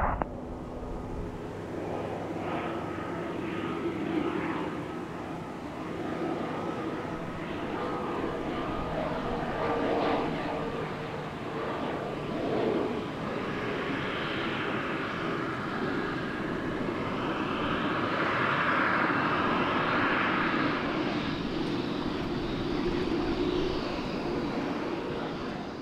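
A general aviation plane comes in to land on runway 27 right at Gillespie Field, San Diego, a steady, moderately loud engine drone and rushing noise that lasts throughout and builds slightly toward the end.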